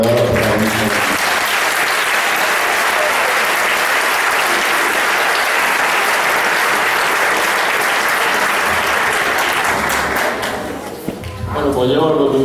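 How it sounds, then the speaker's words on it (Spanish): Loud, sustained applause from a concert crowd for a music group, a dense wall of clapping that fades out near the end. "un fuerte aplauso para los verdaderos protagonistas"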